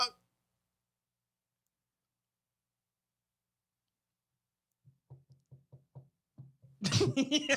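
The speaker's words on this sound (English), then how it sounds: "Gotta knock on wood one time." Several sharp knocks on wood in a quick, uneven run, fairly close and clear, coming after a long silence and followed right away by a loud burst of talk.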